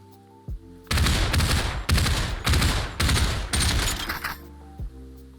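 Several sustained bursts of MK assault rifle fire from the VR game Population ONE as a full magazine empties two-handed, loud and close, in four long volleys with brief gaps, followed by a few faint clicks.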